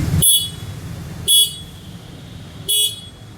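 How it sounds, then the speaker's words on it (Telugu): Single horn of a 2026 Suzuki Gixxer 250 motorcycle, three short loud honks evenly spaced over a few seconds, close by with a quiet hum between them. "హార్న్ సౌండ్ కూడా వినండి."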